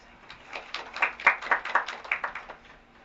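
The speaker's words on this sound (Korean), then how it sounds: "박수 한번 더 쳐주세요." An audience at a children's and youth human rights forum lecture claps together for about three seconds: a dense run of sharp, fairly close claps that swells in the middle and tapers off. Nobody speaks over it.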